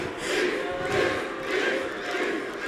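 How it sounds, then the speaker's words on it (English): A wrestling crowd at the Velasco Theater chants in rhythmic swells, with about four repeated surges of massed voices filling the hall. "Venomous not taking too kindly to the chants of this crowd here in the Velasco Theater."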